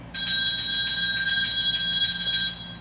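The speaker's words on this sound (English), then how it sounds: "a bell ringing" A bright bell rings in a fast, continuous trill for a couple of seconds, clear and close, with nothing else around it.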